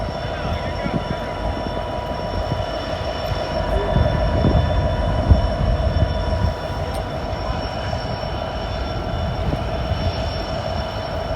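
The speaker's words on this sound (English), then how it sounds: "Okay, the manifest train's moving. He's pulling away." A manifest freight train moves steadily past at Gallitzin, Pennsylvania, with continuous rolling rumble, clanking railcars and a faint high wheel squeal, the train pulling away from the trackside spot.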